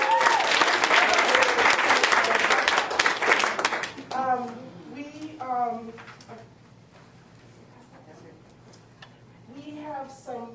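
Parents and staff at a school presentation burst into loud clapping for four seconds, then it stops abruptly and a person speaks, with a faint cheer rising near the end.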